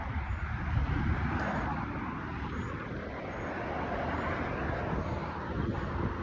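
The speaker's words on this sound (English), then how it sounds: "These cars are so loud." Cars and other road vehicles pass close by on a busy road, producing a continuous loud rumbling roar with swelling and fading engine and tire noise, heard alone without talk.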